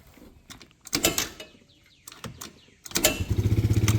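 Can-Am DS90X ATV engine turning over and catching, then running roughly with a rapid uneven putter, preceded by clanks and mechanical knocks.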